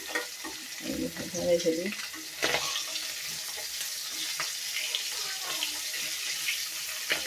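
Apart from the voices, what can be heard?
hilsa fish pieces frying in oil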